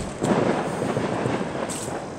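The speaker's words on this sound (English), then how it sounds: "Got some firecrackers going off." Independence Day firecrackers pop in a quick burst, then a steady rumbling crackle continues, with a second sharp report near the end, heard outdoors on a warm night without talk.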